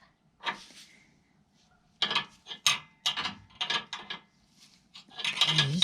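A hand ratchet works loose the two bolts holding an old rear bump stop on a Ram 3500 truck, with bursts of close clicking and metallic rattling separated by pauses.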